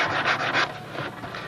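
A sanding stick rubs over the wooden wing of a Brodak Cardinal control-line model plane in a few quick, soft, close strokes.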